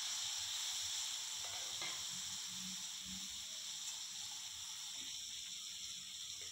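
Steady sizzle and hiss of chopped tomato dropped into a hot pan of potato and parwal curry, a continuous close frying crackle with a few soft stirring knocks underneath.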